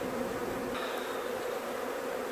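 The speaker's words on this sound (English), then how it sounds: "this thing is packed with bees" A dense hum of honeybees from a crowded, open hive during an inspection, a steady close buzz with no talking.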